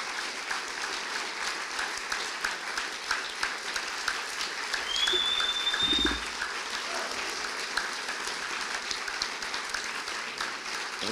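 An audience claps in sustained applause at a talk by Father G. Boyle; the dense, even clapping fills the whole stretch at steady volume, with a brief bird chirp rising above it midway.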